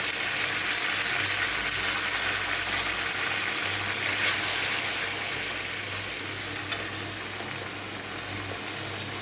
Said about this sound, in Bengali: মশলাগুলো ভালো করে ভাজা হোক